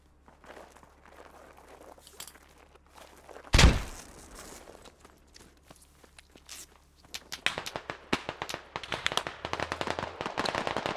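Gunfire rings out in a squad shooter video game, one loud close shot followed by rapid, irregular bursts of distant and nearer shots, with footsteps and scattered movement sounds between.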